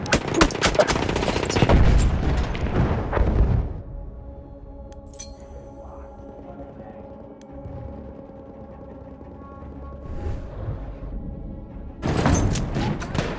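Machine gun fire in a wartime shooter game crackles in dense bursts at the start, drops to a low hum with faint clinks in the middle, then returns as a sharp burst at the end.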